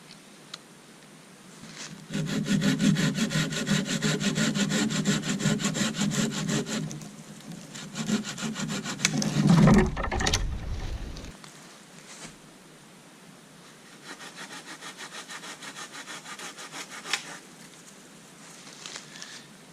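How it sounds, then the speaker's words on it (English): A hand saw cuts through a dry wooden log in a long run of quick, rhythmic back-and-forth strokes, close and fairly loud. The strokes stop abruptly, followed by softer handling and rubbing sounds. "I'm going to saw out the section I need"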